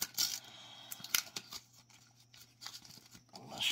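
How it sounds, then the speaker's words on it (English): A Panini World Cup sticker packet being torn open up close: short crinkling rips and paper rustles in quiet bursts, with no talking. "Let me just break into this one because it's kind of not open properly."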